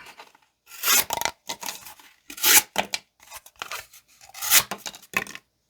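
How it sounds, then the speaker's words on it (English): A Sencut Awassi folding knife slices through cardboard in several separate rasping strokes, each a dry tearing scrape close up with short pauses between them and no talking. "let's cut some cardboard"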